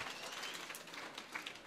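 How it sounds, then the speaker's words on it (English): An audience at a foundation event clapping for themselves, a short burst of steady, moderately faint applause from a crowd. "Can you clap for yourselves?"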